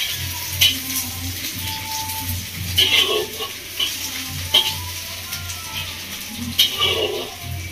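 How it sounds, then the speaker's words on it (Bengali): Onions frying in a pan for a Bengali prawn dish, a steady soft sizzle with occasional stirring scrapes and clinks, close and alone without talk. "পেঁয়াজটা ভাজা হচ্ছে বন্ধুরা"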